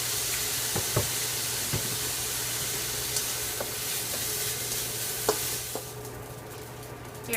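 Fried rice with soy sauce sizzles steadily in a wok on an induction cooktop, a broad constant hiss broken by sharp scraping clicks of a utensil stirring and tossing, close and fairly loud, with no talking.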